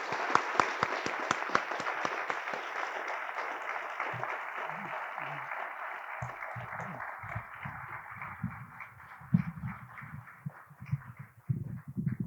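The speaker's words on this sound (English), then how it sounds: "Please join me in a round of applause" An audience at a university science award ceremony applauds as the laureate comes to the stage, with dense, steady clapping that gradually thins out while low voices and shuffling emerge underneath.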